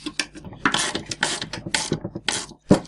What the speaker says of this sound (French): Il reste plus qu'à serrer les petits écrous.